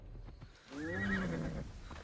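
A horse in Assassin's Creed Odyssey gives a single loud, close whinny that rises and wavers for about a second before trailing off, set against quiet game ambience.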